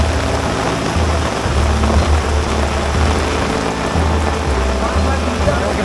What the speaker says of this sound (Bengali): বনের মধ্যে বৃষ্টির মাত্রা যেন আরও বেড়ে গেছে মনে হইতেছে